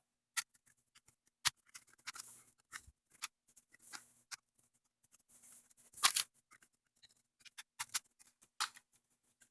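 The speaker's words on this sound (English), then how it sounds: "Now we can get underneath the keyboard bezel and start prying it up." Prying up the keyboard bezel of a Lenovo X220/X230 tablet convertible laptop: sharp plastic clicks, snaps and small scratchy creaks scattered irregularly, quiet and close, with near silence between them.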